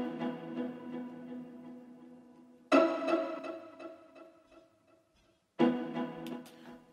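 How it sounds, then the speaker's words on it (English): Pizzicato string hits in a hip hop beat made in FL Studio: plucked tonal notes with short decaying tails, a sustained phrase followed by two sharp separate hits, clear and alone with no talking. "So next, what I did was I added a pizzicato to kind of just a simple hit."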